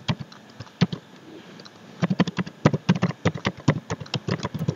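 An email address is typed on a computer keyboard in quick, uneven bursts of close, crisp key taps, with a brief pause before a denser run of keystrokes.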